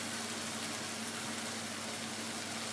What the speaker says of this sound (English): I'm going to add one whole egg whisked. I'm going to let it sit on that pan.